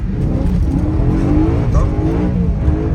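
BMW M3 E93 engine roaring steadily under load as it accelerates again mid-drift, a loud continuous close-up drone with a faint tire squeal.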